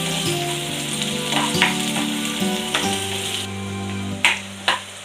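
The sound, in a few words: onion frying in hot oil in a pan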